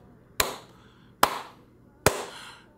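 Three sharp single claps ring out alone, about a second apart, each with a short echoing tail.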